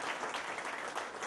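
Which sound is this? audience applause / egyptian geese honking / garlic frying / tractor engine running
audience applause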